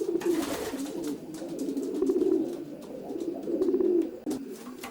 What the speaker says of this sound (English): these pigeons in this section are mostly yearlings, and these are now paired up